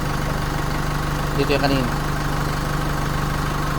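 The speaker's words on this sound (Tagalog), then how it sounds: "Mga boss, nagpaandar ako ng makina, tumasa konti" A Chevrolet Trailblazer engine idles steadily with a constant low hum during a coolant change, while someone speaks briefly over it partway through.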